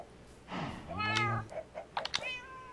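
A cat in Minecraft gives a loud drawn-out meow followed by a couple of shorter ones, with faint key taps and a voice in the background.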